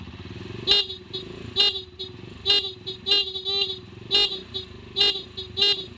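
Motorcycle horn running off a capacitor with no battery, beeping in about seven short loud honks at a fairly even pace over a low idling engine hum.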